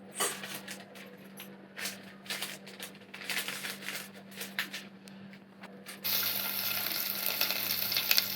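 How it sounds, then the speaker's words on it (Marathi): Small clinks and stirring noises in a pan give way to a sudden, continuous hot-oil sizzle as a mustard seed tempering is poured over a vegetable dish seasoned with turmeric and salt. The sizzle is close but fairly quiet. "आता याच्यात तेलाची फोडणी द्यायची"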